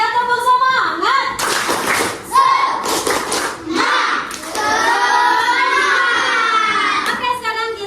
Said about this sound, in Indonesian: kita tepuk semangat lagi ya, tepuk semangat.